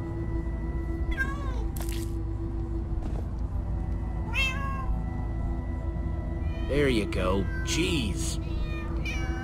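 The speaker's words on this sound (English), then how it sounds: "Oh, many cats, so many cats." Several cats meow in Minecraft Story Mode, with a few drawn-out, wavering cries spread across the scene over a steady game-music hum, and someone briefly talks between them.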